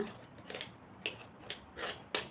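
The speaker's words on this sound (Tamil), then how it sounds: "இதையும் கட் பண்ணுறேங்க." Scissors snip through fabric while a baby frock is cut out by hand, a series of short, crisp close-up cuts spaced irregularly over quiet background.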